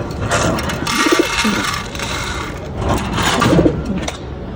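Pigeons cooing while being fed after a day without food, soft throaty coos in two clear bouts over a steady background of rustling and pecking noise.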